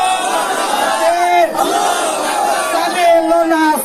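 At a street protest in Cox's Bazar over killings in Palestine, a large crowd chants the takbir slogan in loud, rhythmic unison, voices rising together in repeated shouted bursts.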